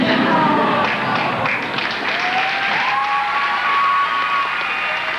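A sold-out basketball crowd applauds and cheers for Kevin Costner, a dense, continuous wash of clapping and voices that stays loud throughout.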